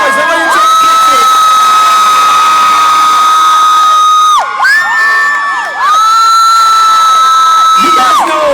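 A large crowd screams and cheers loudly and continuously, with high-pitched shrieks dominating and a brief dip before the roar surges again.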